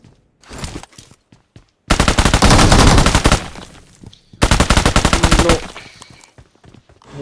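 In the video game BGMI, loud bursts of rapid automatic gunfire crack out in two long volleys, with scattered single shots before and between them.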